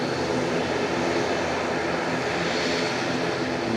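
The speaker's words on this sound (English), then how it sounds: "I'll just show you these cute little ATR" An ATR 42 turboprop airliner at Nagasaki Airport gives off a continuous engine drone with a faint propeller hum. The sound is steady and moderately distant, with no voices.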